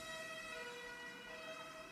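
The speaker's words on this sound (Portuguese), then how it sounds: "carro de bombeiros" A fire engine siren wails continuously outside, at moderate distance and fairly faint, with its steady tones holding throughout.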